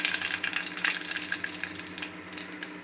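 Mustard seeds dropped into hot oil for kadhi crackle and sizzle up close, a busy run of sharp pops over a steady hiss with no voices.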